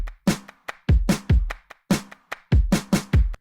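A pop drum pattern with big, punchy snares and kicks, treated with a subtle JST Clip clipper. Hits land in a steady groove with short decays and near silence between them.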